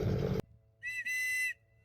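Two sharp, shrill whistle blasts, a short one followed by a longer sustained one, sounding clearly after a brief burst of broadband noise, at a tame eagle feeding show on a Kenyan safari.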